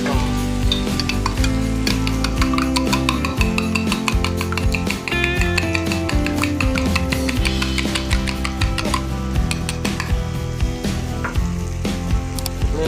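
Eggs stirred in a glass with a spoon, giving brisk, continuous close-up clinking and scraping with ringing glassy tones, loud and steady.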